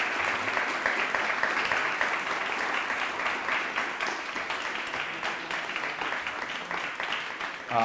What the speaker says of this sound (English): I hope you will join me in clapping once again for Ambassador Shapiro